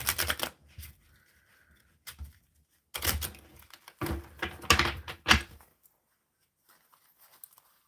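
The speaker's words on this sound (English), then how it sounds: "Shuffling for the collective and their greatest good." A tarot deck being shuffled by hand, close up: short bursts of riffling, flicking and tapping cards separated by quiet pauses, louder clusters near the middle, no voices.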